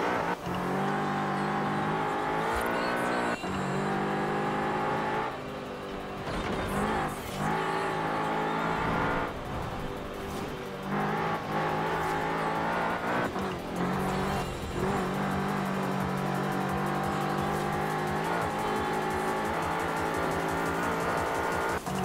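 Forza Horizon 4 race car engine revving and accelerating continuously through gear changes, loud and close with brief dips between shifts, no talk over it.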